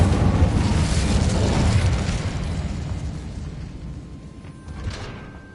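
Incendio fire spell cast in Hogwarts Legacy, a loud fiery burst and rumble that fades over several seconds, ending with a small crackle.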